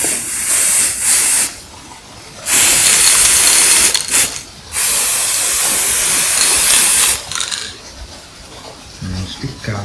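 Black spray paint is sprayed onto Royal Enfield Himalayan 411 motorcycle parts during a rust repair. Several loud, close hissing bursts of a few seconds each are separated by short pauses.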